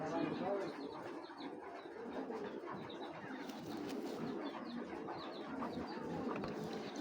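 Racer pigeons at a seller's loft give soft cooing and an occasional wing flutter, faint beneath a voice with steady background murmur.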